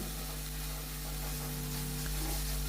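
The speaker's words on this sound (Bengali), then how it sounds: "তো আমি সেটা সেই জন্য এখানটা একটু ভেজে নিচ্ছি" Spices frying in a pan while cooking, making a steady, dense sizzle and hiss that carries on without pause and sits close, along with a constant low hum, with no voices.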